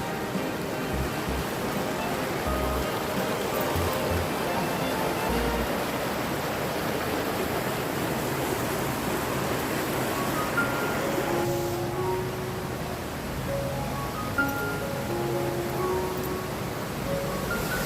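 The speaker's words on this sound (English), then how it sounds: "There's a bunch of waterfalls." Rushing waterfalls at Amnicon Falls State Park, Wisconsin, roar in a steady, dense wash of water noise that holds loud and even throughout.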